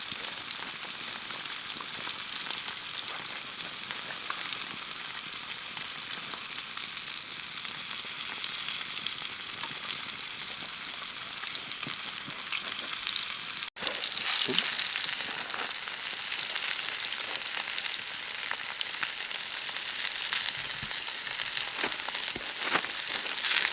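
Fish sizzles steadily in a pan over a campsite fire on a fall canoe trip in Algonquin Park, a dense, continuous frying crackle that grows slightly louder and brighter partway through, with no talking.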